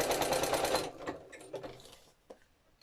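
A sewing machine stitches through paper ephemera for a sunflower-themed journal, a fast, loud run of even needle strokes for under a second, then a few scattered clicks and handling sounds that fade toward quiet.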